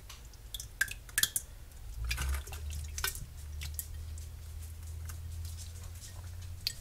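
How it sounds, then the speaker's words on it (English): Canned beef and gravy slides and drips into a pot, with soft wet plops and splatters, then a steadier pouring gurgle beneath the drips, close and fairly quiet. "I'm going to put our beef and gravy in here."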